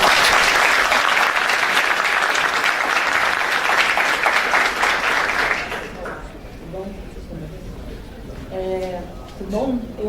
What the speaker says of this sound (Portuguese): Uma salva de palmas, por favor, pessoal.